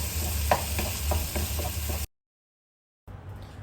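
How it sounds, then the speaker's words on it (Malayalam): Egg bhurji stirred in a frying pan, a steady sizzle with repeated spatula scrapes and taps for about two seconds, then a sudden silence before the frying hiss returns more faintly. "ഇനിയും നല്ലതായിട്ടൊന്ന് ഇളക്കി കൊടുക്കണം"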